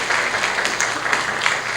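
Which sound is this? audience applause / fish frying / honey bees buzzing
audience applause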